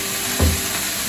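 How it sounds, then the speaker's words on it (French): Washed, cut courgettes go into a hot pan with a short thump, and a steady close sizzle carries on through the whole brief moment. "Voilà, on rajoute les courgettes."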